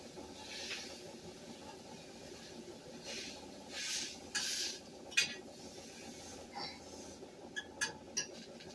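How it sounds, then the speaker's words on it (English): Breakfast sausages sizzle with a steady hiss in a frying pan, broken by scattered clinks and scrapes as they are turned over. "I'm flipping my sausages if you're wondering why you see me moving in and out"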